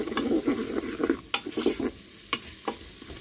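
Potatoes with curry powder being stirred in a pot make repeated scraping and clacking strokes at close range, an uneven rhythm of scrapes over a soft background sizzle.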